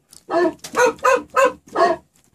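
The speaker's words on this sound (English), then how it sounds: "a barking sound. I'm going to use the dog sound as my melody." Five short, punchy dog barks used as a melodic sample in a beat, evenly spaced and loud, standing alone with no music or talk underneath.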